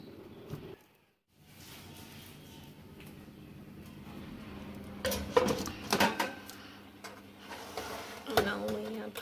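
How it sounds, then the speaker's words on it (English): A baking tray of jerk chicken and fries slides into a home oven with metallic clanks and scrapes, a few sharp knocks clustered midway and another toward the end over quiet room noise. "Now we have placed them in our oven"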